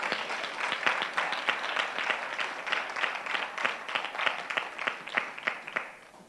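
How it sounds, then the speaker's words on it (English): Audience clapping at an annual general meeting of a charitable foundation, a moderate, steady patter of many hands with distinct individual claps, sustained for several seconds before tapering off. "Give him a clap."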